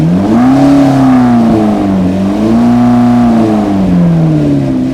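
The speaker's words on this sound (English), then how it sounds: "go ahead and rev it again" A McLaren with a newly installed replacement engine from eBay revs up and down in long, loud, close swells, the pitch rising and falling twice without any speech.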